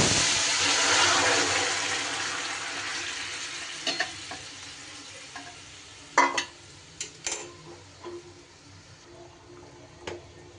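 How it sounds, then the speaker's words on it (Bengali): Thin fish curry broth goes into a hot karahi over spiced oil, a loud sizzle bursting at first and fading to a softer hiss, broken by a few sharp clinks of utensils against the pan. "এইবার ঝোলটা আমি এর মধ্যে সাঁতলে দেব।"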